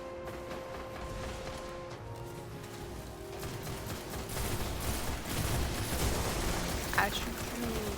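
Bursts of video game gunfire rattle through a continuous noisy battle mix, growing denser and louder toward the end with a sharp crack near the close, while a voice speaks over it.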